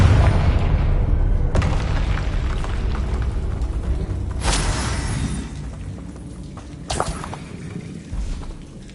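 Confringo blasting-spell explosions in Hogwarts Legacy, a deep rumbling boom opening loud then fading, with sharp bursts around the middle and near the end over a continuous low roar.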